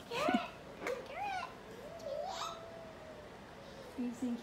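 A pet cat meows softly several times in a quiet room, short rising and falling calls spaced out among faint background sounds, with a person's voice briefly nearby.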